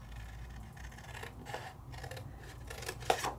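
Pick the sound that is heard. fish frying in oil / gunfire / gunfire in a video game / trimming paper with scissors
trimming paper with scissors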